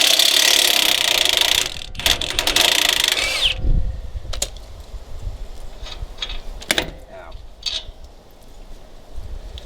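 A power tool whirs loudly at a lower strut bolt on a Toyota Tacoma, a sustained burst that cuts off, followed by scattered clanks and metallic clicks as the work continues.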